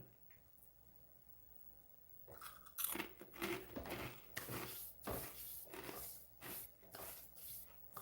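Close, quiet crunching and chewing of food by one person, irregular crisp bites and mouth sounds repeating every half second or so after a brief near-silent start.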